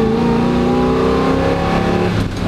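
A 1969 Chevrolet Camaro Z28 with its 302 V8 revs hard and loud up close, a steady throaty engine roar winding up in pitch for over two seconds, with no talking over it.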